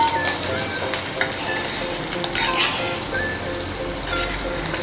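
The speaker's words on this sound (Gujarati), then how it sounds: "આપણે કારેલા સોતરાઈ રહ્યા છે સરસ." Stuffed bitter gourd fries over a low gas flame, a dense continuous crackling sizzle close by with small pops and no talking.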